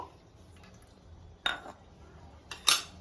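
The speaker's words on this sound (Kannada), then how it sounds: "ಈಗ ಒಂದು ಬೌಲ್ ತಗೋತಾ ಇದ್ದೀನಿ. ಒಂದು ಬೌಲ್ಗೆ ಫಸ್ಟು ಬೆಣ್ಣೆ ಹಾಕೋಬೇಕು." Clinks of a bowl and spoon in a home kitchen as a bowl is picked up and butter is added for a chocolate recipe, two bright clattering knocks with a quiet gap between them.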